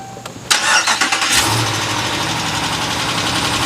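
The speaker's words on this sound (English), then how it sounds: "Hear that little bit of tick, tick, tick, tick," Engine of a Ram pickup truck starting and then running at a steady idle just after an oil change, a loud close rumble with a faint light ticking rhythm underneath while the oil pressure builds back up.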